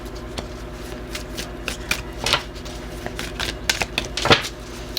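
A tarot deck is shuffled by hand at close range in a string of quick, papery riffles and soft card slaps, uneven in rhythm and moderately loud, with no talking.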